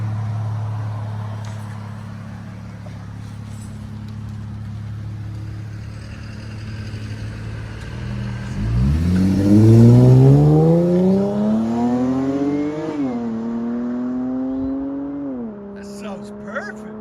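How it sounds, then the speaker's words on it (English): A 2019 Dodge Charger SXT with a 3.6L V6 and Vibrant exhaust idles low and steady, then revs up hard in a rising sweep, holds a loud rumble, blips again and settles back to a raised idle. "2019 Dodge Charger SXT V6."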